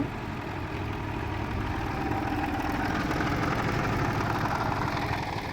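The engine of a clay brick making machine runs steadily at a constant pace, a loud, close, even rumble and drone with no breaks and no talking.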